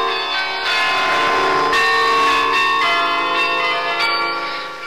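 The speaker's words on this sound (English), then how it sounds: "It's Merk Toch Hoesterk, our interval signal that would announce Radio Netherlands' arrival to the shortwaves." Bells ring out the Radio Netherlands shortwave interval signal in a steady, loud melodic sequence of chimes with long ringing overtones, continuing without voices.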